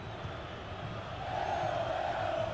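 A crowd in a football video game, an AFC Champions League or Copa Libertadores match, keeps up a steady roar that swells louder partway through and holds at a constant, distant level.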